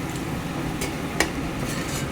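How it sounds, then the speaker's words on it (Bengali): Potato and onion fry together in a pan with a steady close sizzle, broken by a few scrapes of a stirring utensil and one sharp clink. "আলু পেঁয়াজটা একসাথে ভাজছি।"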